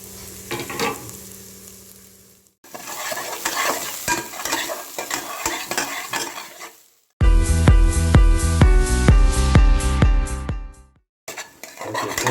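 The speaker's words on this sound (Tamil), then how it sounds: "எண்ணெய் சூடாயிருச்சு இப்போ நம்ம இடித்து வச்சுருக்கிறது எல்லாத்தையும் போட்டுடலாம்" Crushed spices for a field-crab soup sizzle loudly in hot oil while a utensil stirs and scrapes the pan in quick repeated strokes, the frying bursting in after short pauses and continuing close and strong.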